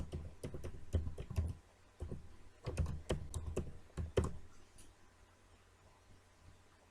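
Keystrokes on a computer keyboard as a password is typed, clustered taps in quick bursts with short pauses, close and moderately loud, no voices.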